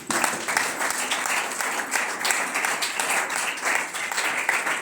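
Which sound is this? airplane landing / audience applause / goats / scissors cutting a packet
audience applause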